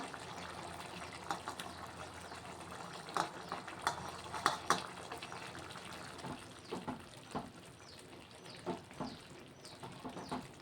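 Cut tomatoes are stirred into half-cooked red lentil dal in a pot, with soft scraping and wet stirring plus light intermittent clinks, fairly faint and close, with no talk.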